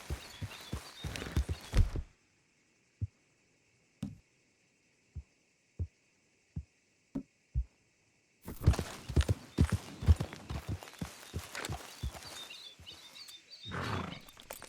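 Horse hooves clip-clop on the ground in Red Dead Redemption 2, a quick cluster of steps giving way to a few slow, separate clops, then a busy burst of hoofbeats under rumbling game noise.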